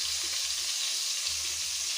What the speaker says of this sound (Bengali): এরকম দুও সাইড করে লাল লাল করে ভেজে নেবে